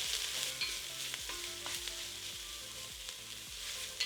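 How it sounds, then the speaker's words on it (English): Curry powder sautés in a pot with a steady, close sizzle and frying crackle, broken by the repeated scrape and clatter of a spoon stirring it around, with no one talking. "All right, we'll stir that around and just let it saute for about a minute."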